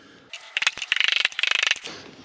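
A ratchet strap being cranked off during the unboxing of a Talaria Sting MX electric motorbike, a close run of quick metallic clicks in two fast bursts, with no talking over it.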